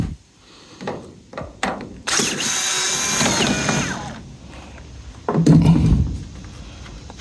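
A power screwdriver backs out hidden screws on a 1990–95 Thomas bus window: short mechanical whirs, then a sustained grinding run lasting about two seconds, and a final louder burst, all close by.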